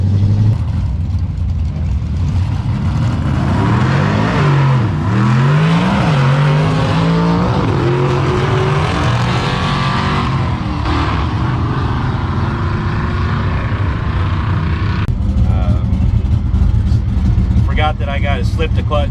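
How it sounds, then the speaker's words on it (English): An old work truck with a 305 Chevy engine and SM465 four-speed launches without nitrous, its loud engine revving and climbing in pitch through the gears for nearly twenty seconds, with a voice talking over it. "Forgot that I got to slip the clutch to launch without the nitrous"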